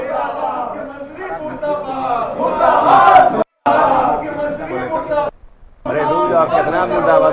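Several voices of BJP MLCs chant slogans in unison at a protest outside the Bihar Legislative Council. The chanting is loud and continuous, with two short breaks.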